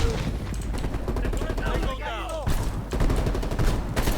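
Rapid bursts of automatic gunfire and explosive cracks from fighting enemies in the video game Call of Duty Black Ops Cold War, dense and continuous, with a short lull midway and speech faintly mixed in.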